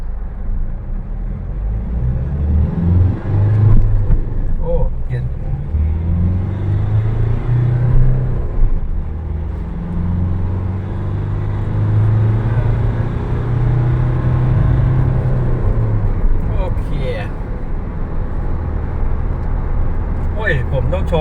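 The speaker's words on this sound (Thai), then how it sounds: "จะศูนย์ถึงร้อยให้ดู" A 2023 Mitsubishi Triton 4WD pickup with a manual gearbox accelerates hard from standstill to 100 km/h, its engine rumble rising and falling through gear changes beneath steady nearby talk.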